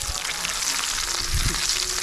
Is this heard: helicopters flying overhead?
no